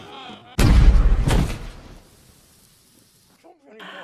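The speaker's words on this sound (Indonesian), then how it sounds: "ia pun langsung kembali memasukkan dinamit itu, dan seketika langsung meledak" A dynamite blast in the 2012 film The Three Stooges: a sudden loud explosive burst with a second boom close behind, then a rumbling decay into near silence before faint sounds return.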